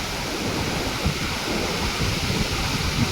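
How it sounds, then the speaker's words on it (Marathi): River water rushes through three opened gates of Radhanagari Dam in a continuous, loud, broadband roar, like heavy surf, with no voices. "सध्या या ठिकाणी आपण बघू शकताय तीन दरवाजातून हा विसर्ग सुरू आहे"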